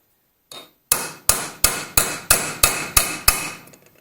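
A chisel bit is hammered onto the clip of a Land Rover clutch fork. One lighter tap comes first, then eight sharp, evenly spaced metallic blows, loud and close, each ringing briefly with no talking.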